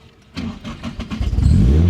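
A Nissan 240SX engine is given gas, rising into a rough, close revving rumble with throaty pulses that build in loudness toward the end, with no talking.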